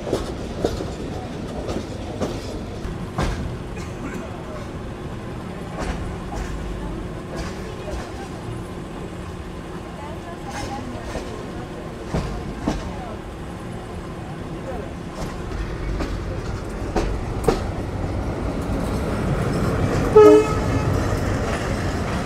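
Mohanganj Express train pulling into the airport station in Bangladesh, with a steady rolling rumble, scattered clicks and a brief horn toot near the end, while someone talks over it.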